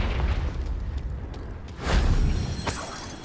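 A Confringo spell blasting rocks in Hogwarts Legacy: a rumbling, low explosion that swells midway with debris bursts, then a sharp crack and fading rumble, loud and close.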